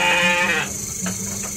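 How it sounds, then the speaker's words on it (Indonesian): A goat bleats at night in a pen where two newborn kids have just been born, a single loud, harmonic cry lasting about half a second, followed by quieter rustling and soft background sounds. "Nih, kambingnya. Wah, kecil banget ya."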